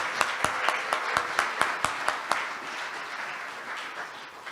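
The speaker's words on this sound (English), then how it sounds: "Let's give them a round of applause." An audience at a BLFIRE18 fire-service honors event applauds newly named bellwethers, a few sharp, distinct claps up front that merge into moderate, gradually fading applause.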